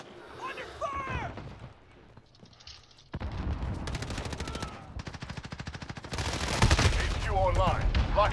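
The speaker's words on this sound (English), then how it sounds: "Under fire!" Rapid machine-gun bursts and fusillades crackle in Modern Warfare, loud and near, coming in dense rattling runs after a quieter opening, with voices talking over parts of the firing.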